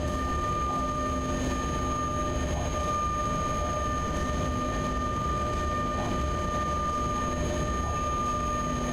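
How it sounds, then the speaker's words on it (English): A simulated locomotive in SimRail slows under its electrodynamic brake, giving off a loud, continuous rumbling drone with steady whining tonal hums layered over it throughout. "that locomotive should be able to handle that with electrodynamic brake"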